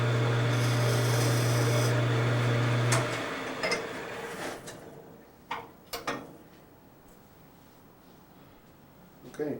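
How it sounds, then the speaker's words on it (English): Wood scraped with a straight-sided scraper during birdhouse and sugar spoon woodworking: a steady raspy rubbing with a low hum for about three seconds, then scattered short scrapes and taps, fairly quiet. "It's just a straight sided scraper."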